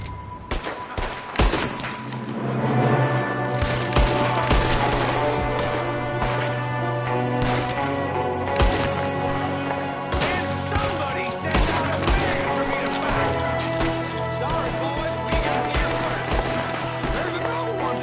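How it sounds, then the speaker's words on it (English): Loud volleys of gunfire crack in rapid bursts through a PS4 video game shootout, with a background bed of sound and occasional voices. "There's another one shooting from the window"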